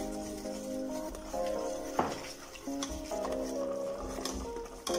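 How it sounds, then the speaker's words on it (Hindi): A spoon stirred briskly through a pot of chicken soup as egg goes in, with clinking scrapes against the metal and a light simmering sizzle, steady and close, with no talking. "और तेज तेज से चम्मच चलाऊंगी मैं।"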